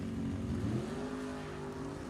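Nostalgia drag race cars at an NHRA Heritage Series event roar loudly off the line, engine pitch climbing steadily as they accelerate away down the strip, with a continuous dense engine roar throughout.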